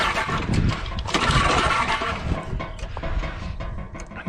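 A Roto-Hoe tiller engine at full throttle with reduced choke is cranked and sputters, giving a loud, rough, uneven mechanical chugging that rises and dips close by.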